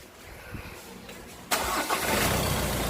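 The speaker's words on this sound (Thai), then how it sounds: "เราก็จะ มาทำการลองสตาร์ทเครื่องดูเนาะ" A Mazda BT-50 Pro pickup truck engine, with its EGR valve removed, cranks and catches halfway through, then settles into a loud, steady idle nearby.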